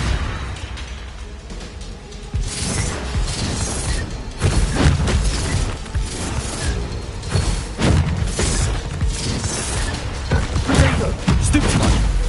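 Confringo spell blasts in Hogwarts Legacy, repeated loud booming bursts with thumping impacts over busy mechanical combat noise, several explosions spaced a second or two apart.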